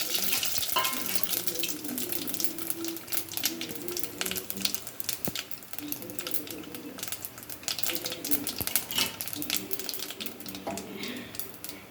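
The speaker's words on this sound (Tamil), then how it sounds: "இப்போ எண்ணெய் காஞ்சிடுச்சு. இதில் பட்டை கிராம்பெலாம் போட்டுக்கலாம்." Cinnamon and cloves frying in hot oil for a Tamil chicken kuzhambu, giving a steady close crackling sizzle with occasional stirring clatter throughout.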